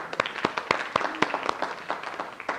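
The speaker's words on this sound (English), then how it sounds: "Give a round of applause to them" Audience applause at a business training seminar, scattered individual claps with sharp, distinct hits in an uneven rhythm, moderately close.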